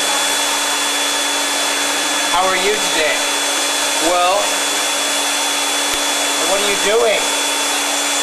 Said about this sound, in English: Oh, I'm just running the vacuum here